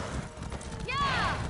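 Horse hooves clip-clopping on a mount in the online fantasy game Elder Scrolls Online, steady and close, with a whinny-like sweep near the end and talk over it.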